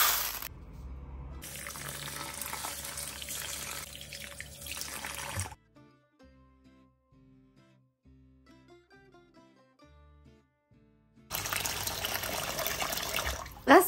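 Water runs steadily from a kitchen tap while long-grain rice is rinsed in a bowl. The rush stops for a quiet stretch with faint handling sounds, then resumes just as strongly.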